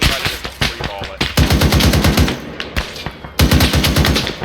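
Rapid rifle gunfire in the military shooter game Arma, loud bursts of repeated shots cracking in quick succession with short pauses between volleys.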